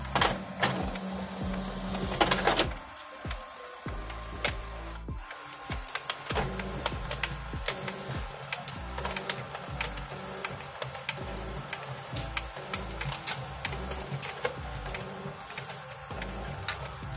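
An Epson L5290 inkjet printer photocopies from its automatic document feeder while it has a vertical-line fault, giving a loud mechanical burst at the start and then continuous whirring with many quick ticks and clicks, close by and with no talking.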